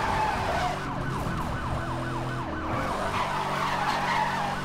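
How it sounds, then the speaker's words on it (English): A police car siren from the racing video game Need for Speed Hot Pursuit wails in rapid rising and falling sweeps over a steady engine roar, loud and continuous, with a brief pause in the middle. "And had this kind of siren"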